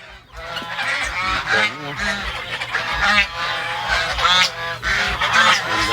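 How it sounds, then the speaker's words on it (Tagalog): A flock of geese honks continuously and loudly, many overlapping calls close by, with a faint voice underneath. "Mga gansang importe dyan. Eh. Mga pabo, gansa."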